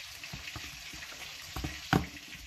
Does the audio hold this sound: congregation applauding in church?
no